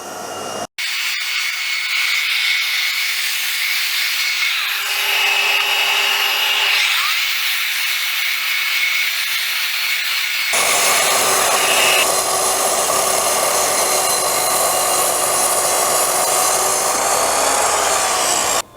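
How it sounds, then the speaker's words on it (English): A belt sander grinds steadily against an old butcher's block board, removing glue, a loud continuous abrasive whine that shifts to a brighter, harsher tone partway through, with no talking. "We're just going to use the belt sander to take that off"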